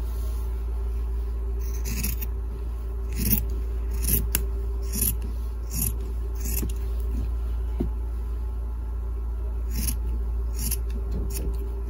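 Scissors cut through fabric for a hand-sewn face mask, giving repeated crisp snips at an irregular pace over a steady low background hum, close by.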